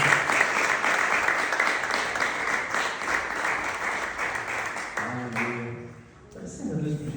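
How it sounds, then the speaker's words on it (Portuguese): A church congregation at a worship service applauds in a sustained, dense burst of clapping that fades after about five seconds, followed by a voice speaking. "Sabe que você pode aplaudir o Senhor por essa mensagem?"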